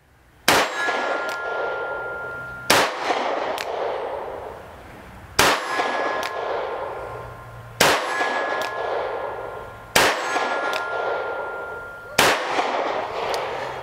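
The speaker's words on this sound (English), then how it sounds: "we're going to do 15 yards at the steel target. I'm going to do them single action" Six sharp shots from a Charter Arms Pathfinder .22 magnum revolver fired single action at a steel target 15 yards away, each crack followed by a ringing metallic clang, spaced about two seconds apart and loud and close.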